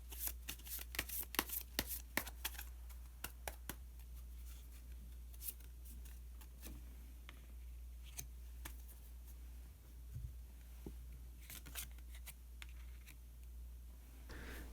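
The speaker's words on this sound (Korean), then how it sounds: "마지막으로 마법사 카드 한 장 더 뽑아보도록 하겠습니다" Tarot cards are shuffled and drawn by hand, with soft crisp riffles and snaps, dense and quick at first, then sparser flicks over a faint steady hum, with no talking.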